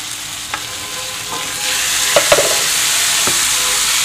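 Two medium chopped tomatoes go into pink-fried onions in a pan for Amritsari paneer bhurji, giving a steady, fairly loud sizzle with a few brief spatula taps, no talking.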